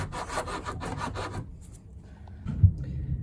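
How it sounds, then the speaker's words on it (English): A battery part being filed flat, with a steady run of close, rhythmic rasping strokes for over a second, then a quieter pause and a single soft knock, with no talking. "So I'm filing this flat."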